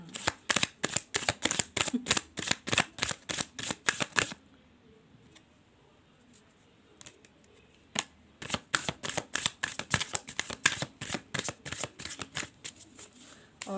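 Tarot cards are riffled and shuffled in close, rapid bursts of crisp flapping, a long run, a quiet pause with a few stray taps, then another steady stretch of shuffling.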